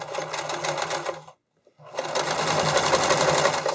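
A sewing machine stitches elastic onto spandex fabric: a loud, steady, fast mechanical whir that runs, stops briefly, then starts again and keeps going.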